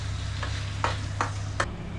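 Mutton frying with spices in a pan, sizzling steadily while a utensil scrapes and stirs in three or four distinct strokes, with a low steady hum underneath and no talking.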